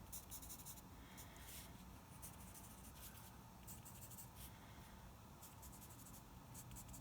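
A pencil held on its side shades across paper, giving close, dry scratchy strokes in a quick repeating rhythm that runs back and forth in bursts, with no talk.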